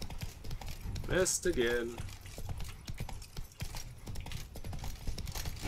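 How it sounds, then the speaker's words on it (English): Horse hooves galloping in the video game Witcher 3: Blood and Wine, a steady rapid clip-clop running throughout beneath game sounds, with a voice speaking briefly over it. "When you're moving on the horse, though, it's hard to time it well."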